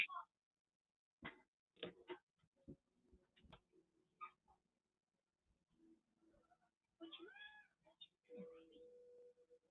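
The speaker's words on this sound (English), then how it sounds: "Oh, the kitty's out there?" Cat meowing outdoors near a porch: a faint, distant mewing cry toward the end, heard amid scattered clicks and soft talking nearby.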